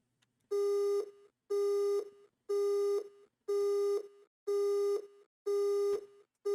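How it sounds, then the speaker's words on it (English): A phone busy signal in the Silent Hill play novel repeats six times as short, evenly spaced electronic tones, each lasting about half a second with matching gaps, clear and alone against silence. "She tried to call back right away. However, the call would not go through."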